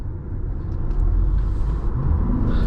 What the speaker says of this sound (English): I'm gonna pop into sport mode. Take on the highway for you guys for a second.